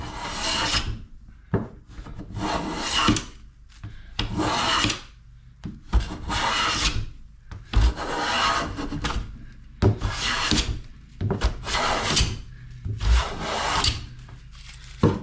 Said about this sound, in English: This is a number 3 smoother I'm using, and that's getting much better.